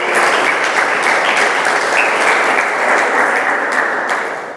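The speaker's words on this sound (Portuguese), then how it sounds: "pode aplaudir." A church congregation bursts into loud, dense applause, a sustained roar of many hands clapping that stays steady throughout and eases slightly at the very end.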